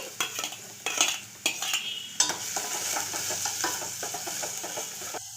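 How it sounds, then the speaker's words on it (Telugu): Thinly sliced carrot and onion stir-fried in a pan for corn soup, a spoon or spatula scraping and clinking against the metal in quick bursts over a soft, steady sizzle. "సన్నగా కట్ చేసుకున్న క్యారెట్ సిమ్లో పెట్టుకొని చక్కగా ఫ్రై చేసుకోవాలి"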